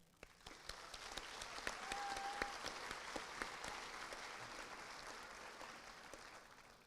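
Applause from the audience at a high school commencement, a steady wash of many hands clapping that swells from a faint start and carries on evenly, heard from a distance in a large gym.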